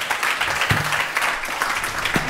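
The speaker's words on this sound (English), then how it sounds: "This is your applause." An audience claps warmly at the end of a tech innovation talk, a dense steady patter of many hands with a few sharper individual claps standing out.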